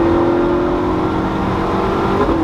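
Ferrari 458 Spider with a Getrag 7-speed dual-clutch gearbox, a loud, steady engine drone with a sustained tonal whine heard from inside the moving car, holding constant without talk.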